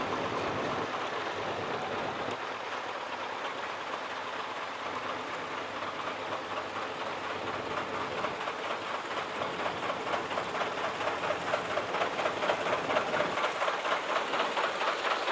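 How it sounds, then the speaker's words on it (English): A 1950 John Deere 640 Standard diesel tractor rolls past in an antique machinery parade, its steady engine drone and rhythmic knocking building gradually louder as it nears, with no talk. "Bob Savoy is on his own tractor, the 1950 John Deere 640 Standard. This is the diesel."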